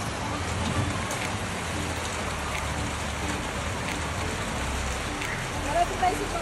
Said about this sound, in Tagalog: Umulan din sa wakas,